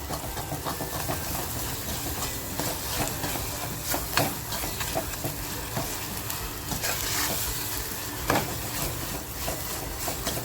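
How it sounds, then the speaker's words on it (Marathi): A paste of ginger, garlic, coriander, green chili and fresh coconut frying in masala for a mutton curry, with a steady sizzle broken by repeated close spatula stirs and scrapes. "ती पेस्ट टाकते आणि तीसुद्धा आपल्याला ह्याच्यामध्ये अशी छान फ्राय करून घ्यायची"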